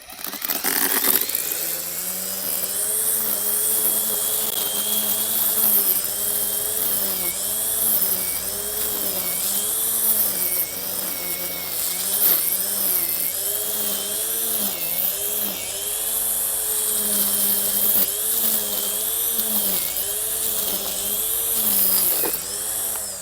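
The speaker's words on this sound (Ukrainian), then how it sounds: "нажимаємо запобіжну цю кнопочку з боку і потім запускаємо тример" Haisser HS 2136TC-Z cordless grass trimmer runs in a garden near a fence, a loud sustained electric motor whine that wavers in pitch as the line cuts grass, continuous throughout.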